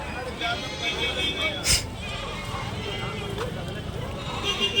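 Goats bleat among a murmuring crowd at a weekly livestock market in Kadiri, with one sharp, loud bleat standing out briefly over steady background chatter and noise.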